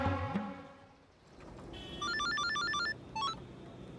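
A phone ringtone chimes in a Hindi police TV drama, a bright repeating electronic melody in two short bursts after a brief rumble, heard over low room noise.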